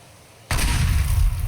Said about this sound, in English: I throw the pipe bomb over here.